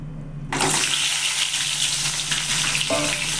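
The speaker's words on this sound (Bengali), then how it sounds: "তো চলো আমি প্রথমে সবার আগে আলুটা ভেজে নিই।" Potatoes go into hot white oil, and after a brief quiet moment a loud, hissing sizzle bursts up and holds steady and close.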